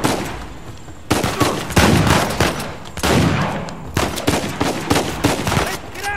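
Gunfire in the video game Uncharted 4: repeated loud bursts of automatic weapon fire and single shots break out in irregular volleys, close and sharp, with brief gaps between them.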